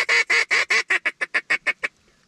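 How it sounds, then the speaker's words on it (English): A run of about a dozen loud, evenly spaced duck quacks, delivered as a rapid descending series of calls that speeds up and fades toward the end, close by and alone, during waterfowl hunting in Alberta. "Those are ducks, guys."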